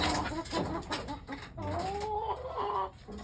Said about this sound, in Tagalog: Mayroong mga manok dito.